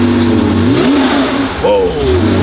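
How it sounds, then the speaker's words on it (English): Cars, including BMWs and a Jaguar, rev and pull away from a Cars & Coffee meet in San Mateo. Close, loud engine notes rise and fall as they accelerate off, one after another. "A lot of the cars just left."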